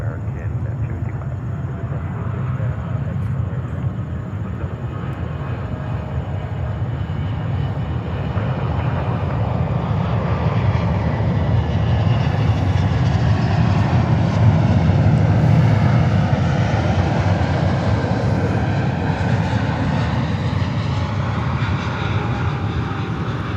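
An American Boeing airliner on approach to land at JFK airport makes a steady, loud jet engine roar that swells slightly and holds throughout, with a radio voice faintly audible.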